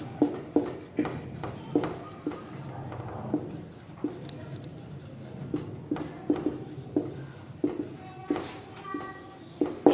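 Chalk or marker strokes on a board in a classroom lesson, with regular short scratching taps and pauses as words are written, fairly close.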